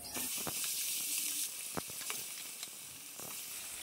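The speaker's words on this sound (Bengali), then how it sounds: "মাছগুলো আমি বেশ ভালো করে ভেজে নেব।" Tangra fish fry in hot mustard oil in a kadai, giving a loud continuous sizzle broken by a few sharp crackles and spits, with no voices.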